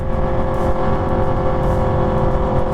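A V4 motorcycle engine runs at a sustained high rev, a smooth continuous roar with a slight buzzing texture and no voices.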